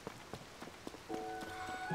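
Rain falls in The Legend of Zelda: Tears of the Kingdom as a steady hiss. Soft rhythmic footfall-like thuds run through the first half, then sustained tonal game music comes in. No one speaks.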